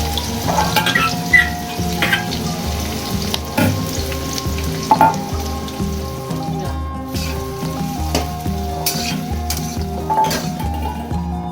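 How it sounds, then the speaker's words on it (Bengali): Chopped onions and green chillies frying in hot oil for dhania chicken, a loud, continuous close sizzle with intermittent clinks and scrapes of a spoon against the pan. "পেঁয়াজগুলো গরম তেলের মধ্যে দিয়ে দিলাম।"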